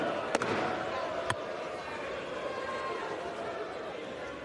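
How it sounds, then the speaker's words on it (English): A gavel bangs twice in the House of Representatives, two sharp close knocks early on, followed by a murmuring chamber with voices in the background. "Looked fun banging that gavel, didn't it?"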